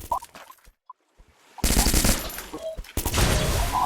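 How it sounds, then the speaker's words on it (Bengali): Loud sustained bursts of automatic gunfire in a shooting video game, following a quieter stretch of faint clicks and game sounds, with a short break before the firing resumes. "এই গুলি করতে আছে।"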